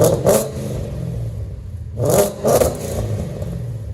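A Ford Mustang GT with a 5.0L Coyote V8 and aftermarket headers revs its exhaust in a few short bursts. A strong blip comes early and two more near the middle, each separated by a lumpy idle burble.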